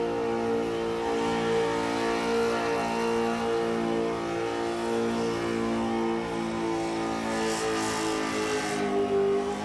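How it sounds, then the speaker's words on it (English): Car engine revving hard during a Summernats burnout elimination, a loud sustained high-rpm wail with steady harmonic tone that wavers slightly as revs hold near the limit. "Pretty serious revs."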